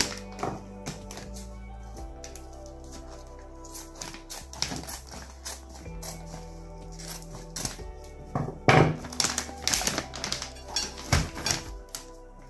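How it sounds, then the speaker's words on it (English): A packet of Korean ginseng chicken stew being cut open, heard as a run of sharp plastic snips, crinkles and taps, sparse at first and then busier and louder near the end, with no talking. "Now I'm gonna open the original one. Cut it open."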